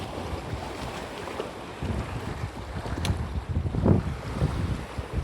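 Wind gusts buffet the microphone over choppy, rough sea water slapping around a small fishing boat out squid jigging, steady and noisy with no talk.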